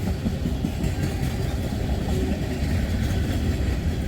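CSX freight train with locomotives rolling past, a steady, loud low rumble of wheels and engines filling the whole stretch without a break.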